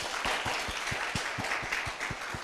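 An audience at a youth forum at Koumassi town hall claps hard, with a dense wash of applause over a few distinct rhythmic hand claps close by.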